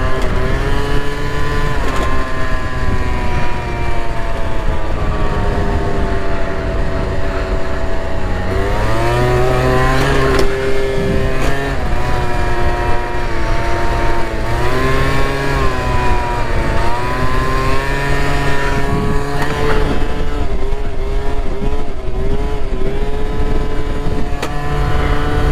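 A motorbike engine, its throttle cable held together with an electrical domino connector, revs loudly and steadily at close range, its pitch rising and falling through repeated throttle blips with no talking.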